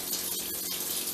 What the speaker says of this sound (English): Just gonna sprinkle a little bit of water on here